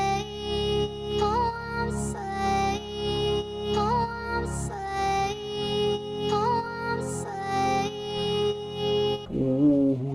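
Reggaeton beat built in FL Studio, with a sustained synth pad under chopped vocal samples that repeat in a steady rhythmic loop, loud and upfront with no talking.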